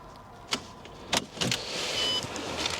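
A Range Rover with a completely flat battery cranks and fails to start: a few sharp close clicks and short strained whirring bursts, with no engine catching.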